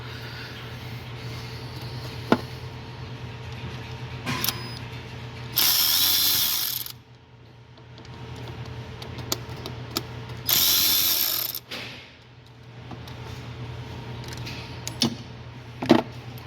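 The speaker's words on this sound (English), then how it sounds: "I'm just going to use a regular ratchet" Ratchet with a short 2-inch extension working the 8mm mounting bolts of the brake vacuum pump on a 2010 BMW X5 4.8L, giving two sustained bursts of fast clicking amid scattered tool knocks and faint background hum.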